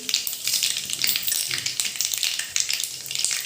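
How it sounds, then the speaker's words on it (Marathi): Mustard seeds, cumin and fenugreek seeds crackle and sizzle in hot oil for a tadka in a medu vada sambar recipe. It is a loud, steady, close hiss dense with tiny popping bursts throughout, with no talk. "मोहरीला छान तडका आल्यावर त्याच्यात आपण जिरं टाकणार आहोत त्यातच मेथीचे दाणे"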